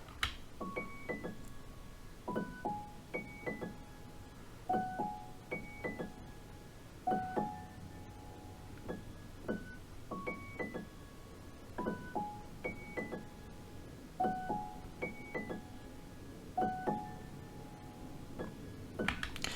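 A quiet piano run melody programmed in FL Studio for an emotional hip-hop beat, with bright plucked notes in quick repeating phrases and filler notes adding rhythm, played cleanly with no voices.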